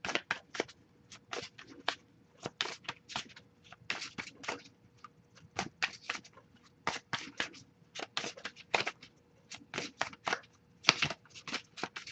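Rapid riffling of playing cards, a steady series of crisp bursts and flutters repeating throughout, close and clear with no talking.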